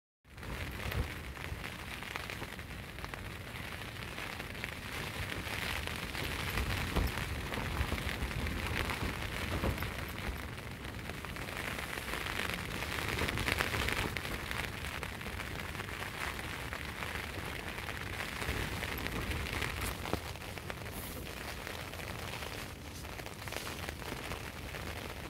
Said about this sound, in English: now it's blowing a gale and all rainy again